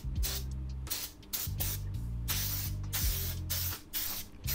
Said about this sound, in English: Spray your compressed air all around.